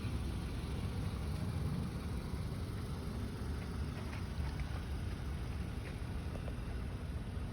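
A 2011 Toyota RAV4 with 78,000 miles sits running, its engine giving a steady, even idle hum under a broad wash of noise for several seconds, with no voices.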